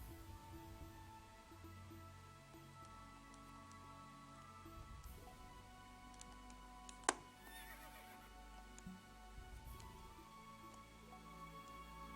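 Horses in the video game Berwick Saga neigh and whinny, with several calls at moderate loudness over a soft steady background and a sharp click near the middle.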